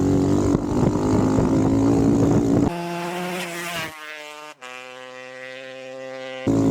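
Pit bike motorcycles race in a 424 Pitbike class hare scramble, engines buzzing loud and close, then revving and whining as they pass, with pitch swings and a brief cutout near the end.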